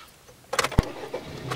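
A car engine cranks and catches in a short burst after a moment of quiet, then settles into a low idle up close, with no talking.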